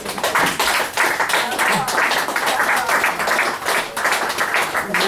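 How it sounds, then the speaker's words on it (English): Audience applause at a book release reading, steady dense clapping from a crowd throughout, fairly loud and close, with a brief lull near the end before it picks up again. "Clap, clap, clap."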